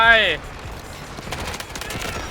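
Submachine gun fire in the shooter game Delta Force: a rapid run of crackling shots beneath dense, noisy battle ambience, following a brief tonal in-game sound at the start.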